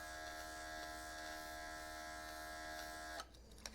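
A Casubaris cordless portable airbrush compressor runs with a steady, even electric hum, close and constant, then cuts off abruptly near the end, leaving brief faint clicks.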